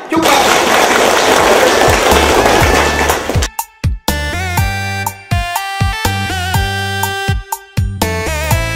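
Applause from relatives of two families at a Vietnamese engagement ceremony, a dense, loud burst of clapping lasting about three seconds before music with a clear melody takes over.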